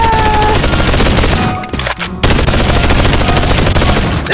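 Sustained automatic gunfire from a gun in the VR video game Bonelab rattles loud and close in a dense, continuous burst, with a brief gap near the middle before firing resumes.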